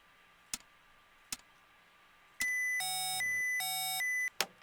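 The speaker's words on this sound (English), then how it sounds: "you might get some master alarms here" Master alarm in an Apollo spacecraft simulator: a loud, steady electronic tone sounding in two long bursts after a few isolated clicks, with a low buzzing layer beneath, then cutting off.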